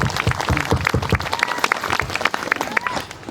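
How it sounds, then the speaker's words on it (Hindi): Congregation clapping at a church testimony service, a brisk burst of hand claps with some voices mixed in, fairly close and steady for a few seconds. "सब ताली बजाएंगे यीशु मसीह के लिए।"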